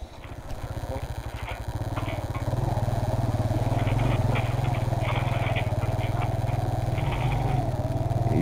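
Motorcycle engine idling and then revving in a mountain village in Astak Valley, Gilgit-Baltistan, a close, steady, throbbing putter that swells louder after two seconds, with faint clatter and background sounds.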